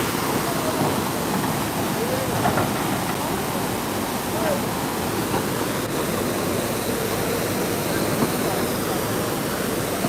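Fast-moving river water roars in a constant, loud rush with no letup, filling the whole scene with broad noise.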